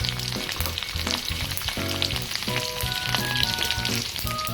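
Garlic frying in hot mustard oil for homemade gubi (dronapushpi) saag, a steady loud sizzle and crackle with faint clinks of stirring, no voices.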